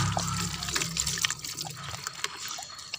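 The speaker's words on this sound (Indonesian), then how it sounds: "kita encerkan dulu ini dengan air kelapa sahabat ya" Coconut water is poured into a homemade liquid fertilizer mix of palm sugar and soy sauce, making a steady trickling, splashing stream at moderate volume close by.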